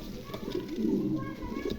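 Pigeons cooing in a loft of pairs sitting on eggs, soft low coos rising around the middle, heard nearby against a busy background.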